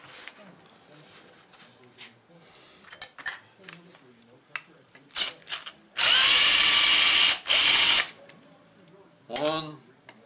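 A power ratchet loosens crankcase bolts on a Husqvarna 576xp chainsaw, two loud buzzing runs of several seconds close by, with clinks and handling noises before and after.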